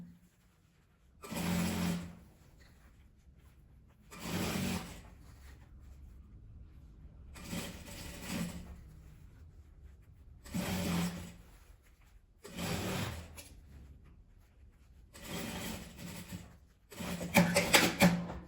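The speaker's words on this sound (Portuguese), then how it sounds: "E agora eu vou passar a costura em volta dessa parte toda." A sewing machine stitches around the edge of the fabric for a small phone-charger pouch, in about seven short whirring runs separated by pauses, close and fairly quiet, with no talk.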